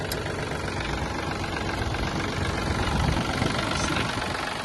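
A Yanmar AF-222 Japanese mini tractor engine idles steadily at close range with a constant low rumble and no voices.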